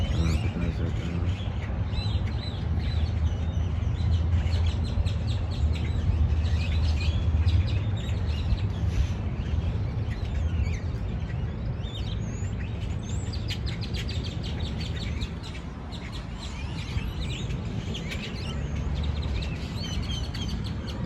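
Outdoors near a plastic owl decoy meant to scare birds away, small birds chirp and tweet in scattered bursts over a constant low rumble of wind and traffic noise throughout.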